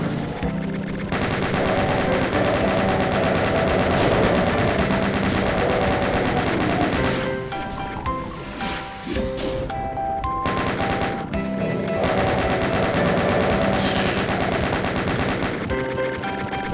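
Chaingunner enemies in Doom fire continuous rapid gunfire over game music and effects, loud and dense throughout with a brief dip in the middle.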